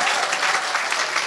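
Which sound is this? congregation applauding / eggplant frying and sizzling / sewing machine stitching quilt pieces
congregation applauding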